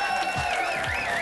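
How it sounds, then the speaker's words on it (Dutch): Audience applause and cheering for eleven contestants at a Mister Veronica pageant at the Amsterdam Crusaders in 1987: a dense, steady wash of clapping with crowd noise and wavering whistle-like tones, loud throughout the brief moment. "Eerst even een applaus voor deze 11 mensen"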